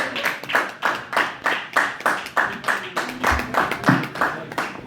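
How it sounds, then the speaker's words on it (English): A comedy club crowd in a pub claps for a comedian: loud, close, rhythmic claps in even, regular bursts of about three a second, held steady throughout with no talk over them. "Big round of applause, everybody, for Casper."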